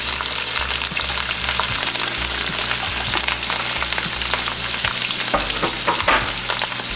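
Mushroom pieces and onion fry in leftover meat grease for hamburger steak and gravy, giving a steady, close sizzle with intermittent stirring and scraping in the pan.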